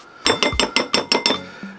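A tablespoon scoops heaping spoonfuls of Duke's mayonnaise into a bowl while shrimp tacos are made at a Blackstone griddle: about seven crisp, close metallic clinks in a quick, steady rhythm, with no talking.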